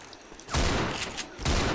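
Gunfire in Left 4 Dead 2: two loud, dense bursts of shots, one just after the start and another near the end, over a low game background with no talk.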